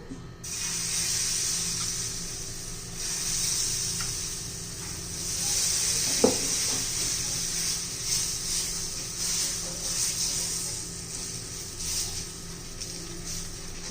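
Oats and vegetable chilla batter spread on a hot greased griddle, a steady hiss and sizzle with a sharp click midway and faint scraping, no talk.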